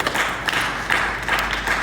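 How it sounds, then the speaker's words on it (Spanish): A church congregation applauds during an evening sermon, a dense, continuous wash of many clapping hands that swells in gentle waves at fairly close range. "Díganle un aplauso en esta noche."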